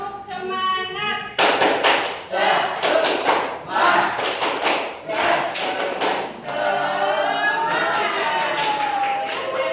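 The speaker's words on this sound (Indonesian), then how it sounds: "Tepuk semangat" A group performing the rhythmic Indonesian spirit clap, tepuk semangat: loud bursts of clapping in patterned sets separated by short pauses, with voices chanting between the clap groups.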